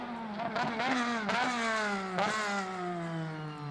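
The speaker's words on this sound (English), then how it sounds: "Like the Screamer exhaust, you hear a lot of echo. Tells you it's a loud car." A loud car engine fitted with a Screamer exhaust drones with a strong harmonic note, blips twice and then settles as it slowly falls in pitch, with a heavy echo around it.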